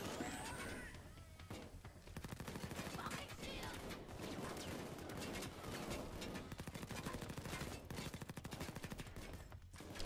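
A Scorpion gun firing in the video game Payday 2 during the Slaughterhouse heist, with dense rapid automatic bursts rattling almost continuously for several seconds, loud and close, amid game action.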